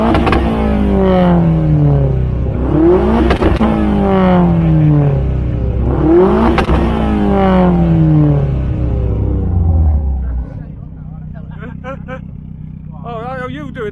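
A Vauxhall Astra's engine revved repeatedly, three loud climbing sweeps with a rumbling tone, then dropping to a low idle while people talk faintly.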